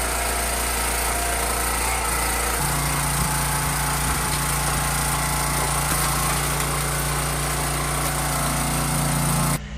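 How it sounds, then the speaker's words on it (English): An engine-powered log splitter runs steadily on a homestead, its small motor droning loud and close without pause, with a lower hydraulic tone joining partway through and holding to the end. "we've got our own splitter now, and it was a big investment"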